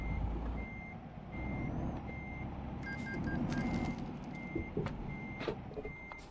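A truck in Euro Truck Simulator 2 backs up, its reversing alarm beeping in a steady, evenly spaced rhythm over a constant low engine rumble, with a brief air-brake hiss midway.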